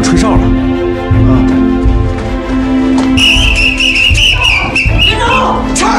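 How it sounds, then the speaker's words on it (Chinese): A whistle blows shrilly over a chaotic military scene, several sharp bursts in the second half, mixed with loud shouting voices and rumbling noise. "是不是有人吹哨了？"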